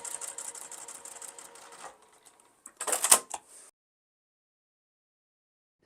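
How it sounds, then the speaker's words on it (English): A sewing machine stitches a baby quilt in a rapid buzzing run that stops, then a short second burst follows before quiet. "Go ahead and stitch the other side."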